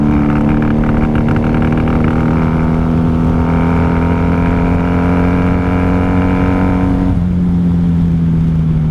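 A 1994 Honda Magna 750 V-four motorcycle engine in need of rejetting runs close and loud with a steady, throbbing idle. Its pitch shifts slightly and then dips near the end.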